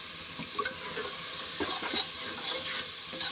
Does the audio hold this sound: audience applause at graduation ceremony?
no